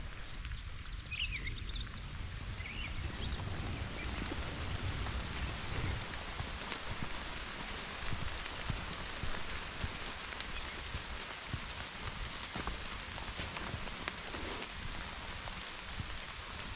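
Steady rain pattering on leaves and the ground during a hike through a maple forest, a soft, even hiss that runs throughout, with a few faint bird calls early on and no talking.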